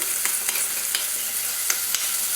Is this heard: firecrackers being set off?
no